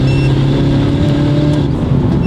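A customised Mini Cooper revs hard with its sport exhaust flap open, a loud, close, steady rasping engine roar held for a couple of seconds with no talking.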